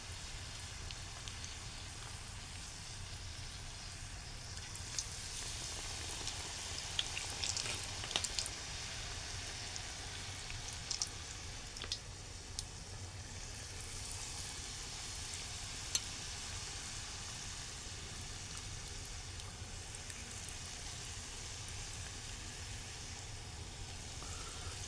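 Cauliflower fritters fry in very hot oil in a pot on a wood stove, a steady faint crackling sizzle with occasional small pops, no voices.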